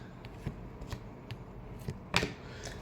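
A deck of tarot cards is shuffled by hand up close, giving several soft, quick riffling and flicking bursts spread over a few seconds, with the sharpest snap near the end and no talking.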